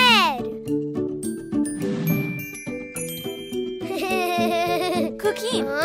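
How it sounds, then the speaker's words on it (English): Colorful Christmas bells jingle and tinkle in a children's cartoon, bright ringing bursts scattered among playful music and children's voices talking. "Let's play with the colorful Christmas bells."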